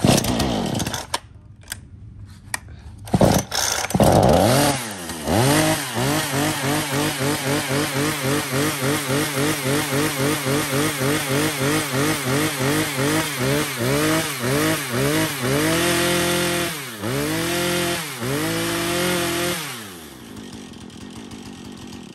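A STIHL or Husqvarna chainsaw engine sputters to life, then idles and revs in a steady rhythmic chug, loud and close, with a couple of throttle surges near the end.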